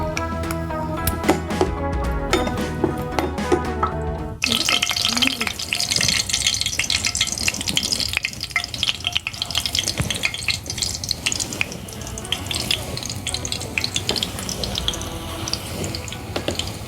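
Onions sautéing in hot oil in a pan, loud crackling sizzle filling the clip after a few seconds of music at the start.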